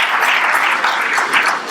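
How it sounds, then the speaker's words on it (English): An audience applauds steadily at a World Food Day celebration in Nigeria, a dense wash of clapping that swells slightly and continues for the whole stretch with no talking. "Round of applause, please."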